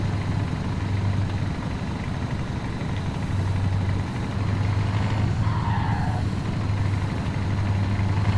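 A truck engine idles in a truck driving simulator game with a steady, loud, low droning rumble that continues unbroken throughout, no voices over it.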